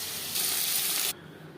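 A bay leaf and panch phoron dropped into hot oil left from frying fish, a sharp sizzle bursting up loudly then settling to a softer hiss.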